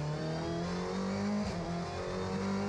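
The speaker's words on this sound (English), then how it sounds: "He's rebooted that car, it's fired up, it's going." A Sasol GTC touring race car at Kyalami runs loud and steady after being rebooted, its engine a harmonic drone with a brief rev change near the middle.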